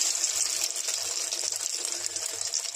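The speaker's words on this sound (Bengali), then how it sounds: "এবার তেলের মধ্যে ছেড়ে দেবো।" Egg-coated fish rolls frying in hot oil give a steady, close hiss and crackle that runs unbroken through the whole stretch, with no talking.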